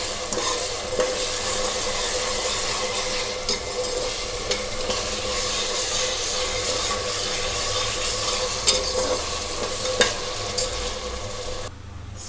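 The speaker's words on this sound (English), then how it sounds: "Once in a while we have to stir them so they don't get burnt and stick to the bottom of the pan." Onions and ginger garlic paste fry in a pan for an Andhra village-style fish curry, a steady loud sizzle under repeated scraping stirs of the spoon against the pan, continuous throughout with no talk.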